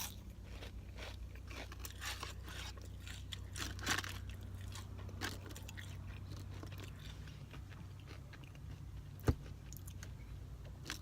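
Someone crunches on fast-food onion rings from Jack in the Box while eating in a parked car, with close, crisp bites and chewing scattered through quiet surroundings and one sharp click near the end.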